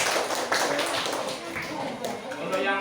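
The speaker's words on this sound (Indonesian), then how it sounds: "Ya, tepuk tangan untuk Sapi." Classroom applause for a student, a few pupils clapping in quick, uneven taps close by while children chatter underneath.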